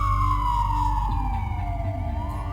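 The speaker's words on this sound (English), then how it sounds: "And a police siren." A police siren in the video game Leisure Suit Larry: Wet Dreams Dry Twice wails in a long, slowly falling tone over a low engine rumble, loud and close.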